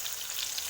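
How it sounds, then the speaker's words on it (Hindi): Steady close sizzle of paneer cubes frying in oil in a kadai, a continuous bright crackling hiss with no voices. "देखिए हल्का हल्का इसको ब्राउन फ्राई कीजिएगा"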